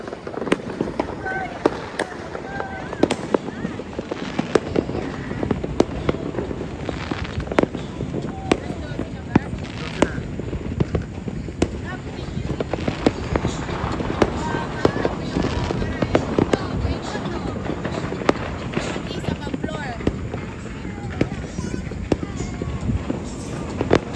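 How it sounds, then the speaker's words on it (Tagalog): Dense, continuous New Year firework crackling and popping, with frequent sharp bangs over a noisy crowd, wind and rain. "Tignan natin yung mga fireworks dito sa ano."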